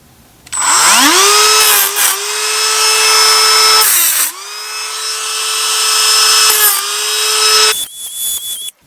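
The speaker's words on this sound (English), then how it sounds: "using a Dremel-like tool on there, you can score across the back of it" A handheld Dremel-style rotary tool scoring the back of an RC car wheel nut, a loud close whine that spins up, dips briefly twice and resumes before stopping, with no talk.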